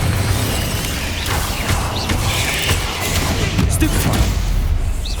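Spell-casting effects in the Hogwarts Legacy video game, including the Incendio fire spell, come as a rapid series of bursts, whooshes and impacts over a continuous loud, rumbling combat background.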